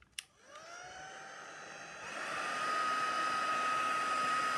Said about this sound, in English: I am going to have to dry this off with a heat tool